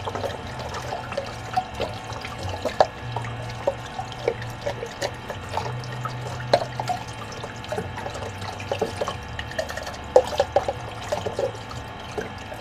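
Tap water runs into a sink while dishes are washed at home, a steady soft splashing stream broken by scattered clinks and drips across the whole stretch.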